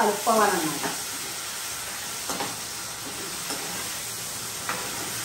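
Onion, green chilli and garam masala paste frying in a pan, a steady loud sizzle and hiss with a few spoon scrapes and stirs, close up, with a brief voice near the start.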